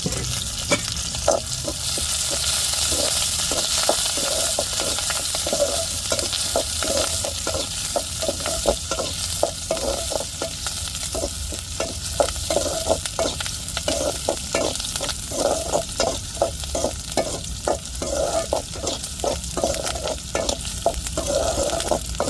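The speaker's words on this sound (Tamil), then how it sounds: "வெங்காயம் வந்து நல்லா வதங்கட்டு" Onions, mustard seeds and curry leaves sauté in hot oil with a loud, constant sizzle and hiss, and rapid rhythmic stirring scrapes run through most of it, heard up close with no voices.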